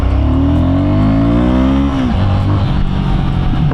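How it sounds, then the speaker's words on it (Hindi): A Royal Enfield Guerrilla 450 motorcycle launches hard, its loud, close engine note climbing steeply through the revs, dropping briefly at a gear change, then pulling on again. "तो करते हैं बाइक को लॉन्च,"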